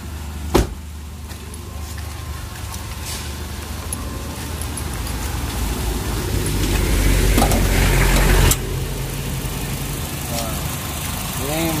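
A Honda car with an i-DSI engine idles nearby as a steady low drone that swells slightly midway, with a sharp knock near the start and people talking over it.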